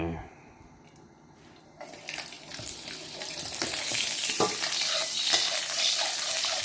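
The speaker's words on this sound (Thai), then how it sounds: "ใส่น้ำมันลงไปนิดหน่อย" A little cooking oil sizzles and crackles steadily in a wok on the stove, the hiss growing louder and brighter after a quieter start, with faint clatter of utensils.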